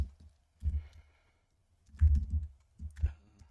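Keys clack on a computer keyboard in a few short bursts of typing, close and fairly quiet, with silent gaps between the runs.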